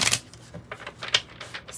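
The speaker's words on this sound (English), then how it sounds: "So I'm just getting these cards shuffled." Tarot cards being shuffled by hand at close range, a quick burst of riffling followed by several short, crisp flicks and slaps of the deck, with no one talking.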